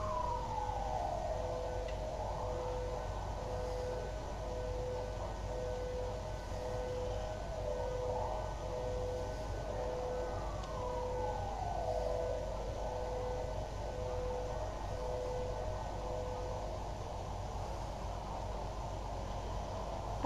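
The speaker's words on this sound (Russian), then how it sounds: "Сирена. Сирена." A wailing siren in the video game Silent Hill 4 rises and falls steadily over a constant background hiss, with no voices.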